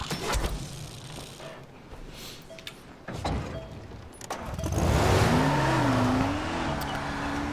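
A car driving in Dying Light: The Following, its engine rumbling and rising in pitch as it accelerates, with a wavering whine and rough road noise growing louder through the second half.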